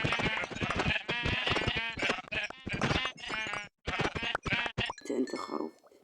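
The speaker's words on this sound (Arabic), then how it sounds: "أنت خروف موت" Sheep bleat repeatedly in the Minecraft video game, a run of loud, close, wavering cries with brief gaps, ending in a softer clinking patch.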